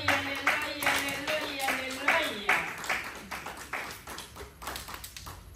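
A church congregation claps in praise during a sermon, with sharp hand claps in a loose irregular rhythm. Voices ring out over them and fade, and the clapping continues alone as individual claps thin out toward the end.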